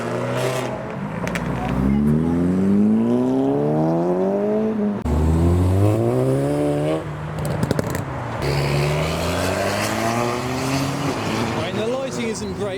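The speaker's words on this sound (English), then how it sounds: "I shall go to the exits, film cars leaving" Modified cars leave a car meet, several engines revving and rising in pitch one after another as they pull away close by. The sweeps and exhaust pops are loud, with speech and crowd noise mixed in.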